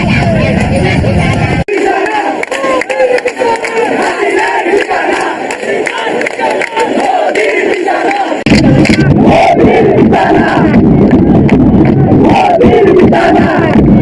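A large crowd of protesting students chants slogans in loud, rhythmic unison. The roar rises and falls and swells again partway through, dense and close throughout.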